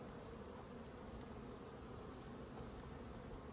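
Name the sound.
honeybees buzzing during a beehive check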